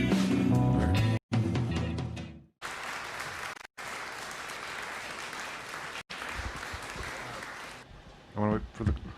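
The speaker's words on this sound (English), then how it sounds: "I want to wait for the applause." A studio audience bursts into loud, sustained applause after a short musical sting, with dense, even clapping that holds for several seconds before tapering off as a voice begins.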